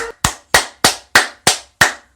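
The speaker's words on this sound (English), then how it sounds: "Booty clapping sounds!" Six sharp, evenly spaced claps or slaps ring out close and loud, each with a quick decay, with no talking over them.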